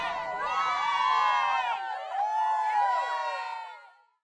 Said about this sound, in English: Uncle Ant and earwig aunt clap and cheer and chant this chant.